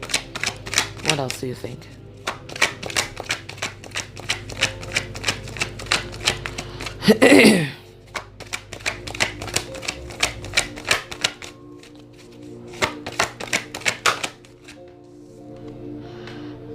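Tarot cards are shuffled in quick, crisp riffling bursts, close and clear, with a louder flurry midway and pauses between rounds, while someone talks briefly.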